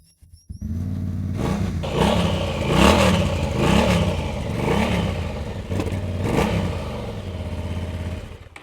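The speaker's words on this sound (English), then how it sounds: "I'll let you hear the sound of this Honda twin-cylinder, which is always very interesting." A 2026 Honda CB750 Hornet twin-cylinder with E-Clutch starts, then revs up and down in about six loud, close, aggressive blips before settling toward idle.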